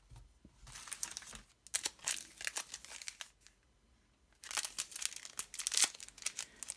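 Foil LEGO Nexo Knights Series 2 booster packs are crinkled and torn open in bursts of crisp rustling, with a quiet pause in the middle before more handling.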